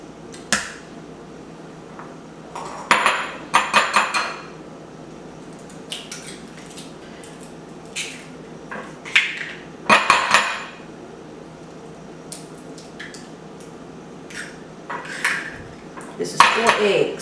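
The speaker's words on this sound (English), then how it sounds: "we're going to go ahead and crack our eggs" Four eggs cracked against a bowl for navy bean pie filling, a series of sharp, close taps and clinks spaced through the clip with quieter kitchen handling sounds between them.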